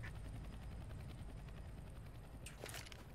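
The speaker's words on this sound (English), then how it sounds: "Drone." A drone in the CS:GO Danger Zone battle royale mode gives a steady whirring, buzzing hum with rotor-like flutter, continuous and moderately distant, with a brief brighter whoosh near the end.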